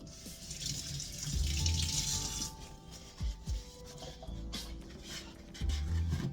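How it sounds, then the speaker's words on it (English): A kitchen tap runs steadily while hands are washed under the water, giving a soft splashing rush with a few brief, louder gushes nearby. "Let me wash my hands again."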